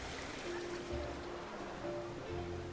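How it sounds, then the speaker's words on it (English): A small decorative waterfall in a Planet Coaster theme park gives a steady, even rush of water with no breaks, heard at moderate level. Faint tonal park music and a little background chatter sit under it. "Oh, with a little waterfall I can see there."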